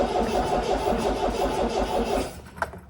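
A 1972 MGB that has sat unused for nine months cranks steadily with a rhythmic, labouring churn for over two seconds, then stops, leaving a brief sharp knock in near silence.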